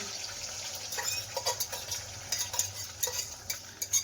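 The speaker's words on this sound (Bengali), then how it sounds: "ডিম কাঁচা লঙ্কা দিয়ে ডিমটা ভেজে নিচ্ছে" Eggs frying with green chillies in a pan, a soft steady sizzle joined by quiet intermittent scraping and stirring sounds, fairly faint and close.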